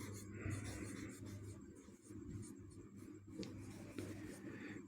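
Steady scratchy strokes of writing on a board during a physics lecture on motion in a straight line, continuous rubbing texture at low level with no speech over it.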